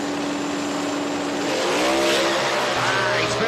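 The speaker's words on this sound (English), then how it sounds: "Here comes Rogers with that turbocharged Bond motor." Drag race car with a turbocharged Bond motor launching at the strip, a loud broadband roar building into a rising engine whine with tire noise, steady and close throughout.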